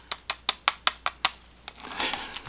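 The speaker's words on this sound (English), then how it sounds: "I'm slapping the cereal." A hand slaps moist Kellogg's Great Pumpkin cereal soaked in milk: seven sharp, evenly spaced wet smacks, then a few looser squishy pats and a brief rustle, close and fairly loud with no voices.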